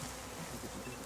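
A honey bee buzzes in one faint, steady drone, close and alone, with no other sounds.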